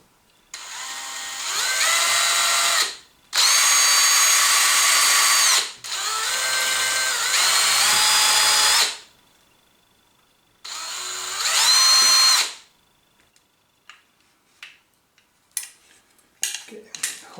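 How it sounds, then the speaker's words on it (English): Power drill boring around the mudguard of a Xiaomi M365 electric scooter, in four loud bursts of two to three seconds each with short pauses between, followed by quieter scattered clicks and handling sounds. "we're just gonna really drill a little bit around there"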